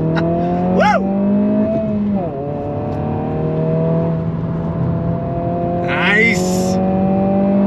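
A 2022 Honda Civic Si with 235-width tires on 18-inch wheels pulls hard on throttle, its steady engine drone climbing and shifting up close by, a short cheer and brief talk over the top.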